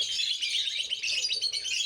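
Lovebirds in breeding nest boxes give rapid, high, continuous chirping, moderately close and without talk.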